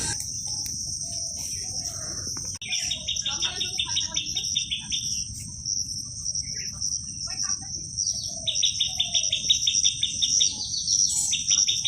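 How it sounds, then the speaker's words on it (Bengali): Birds sing in a morning garden in quick repeated chirping trills against a constant high insect drone, with other calls scattered around in a calm outdoor setting. "সকালবেলা পাখির ডাক একটু শোনালাম"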